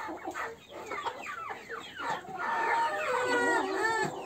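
Several 4.5-month-old chickens, Orloff, Russian Crested and Ameraucana, cluck and squawk close by in a busy, continuous chatter, with overlapping calls building louder toward the end.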